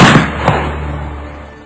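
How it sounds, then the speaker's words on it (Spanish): A single gunshot sound effect rings out as a loud, close blast with a second sharp crack and a long decaying echo, set in a dramatized historical narration about the death of Lope de Aguirre in the 1500s. "el segundo marañón apuntó mejor, tomó referencia y provocó un segundo disparo"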